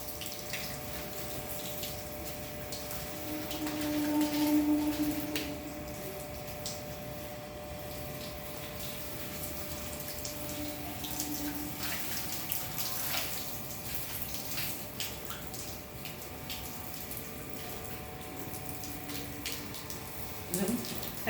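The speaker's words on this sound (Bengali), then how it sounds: "দেখুন কি সুন্দর সিস্টেমে আমি জল দিচ্ছি" A watering system sprays water over thousands of potted plants, a steady hiss of running water with a faint pump hum underneath, continuous and moderately close, with a soft swell early on.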